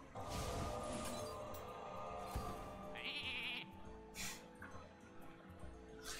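A sheep bleats once in the Hearthstone card game, a short, wavering cry heard over game music and ambient effects at moderate level.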